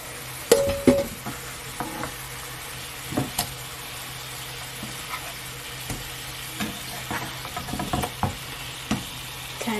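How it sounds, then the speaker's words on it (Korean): Mini burger patties cook in a covered pan with a splash of water, making a low, steady bubbling sizzle broken by a few soft knocks and clatters. "이렇게 뚜껑 덮어두면 이렇게 물이 끓으면서 이렇게 고기를 완전 익혀줍니다"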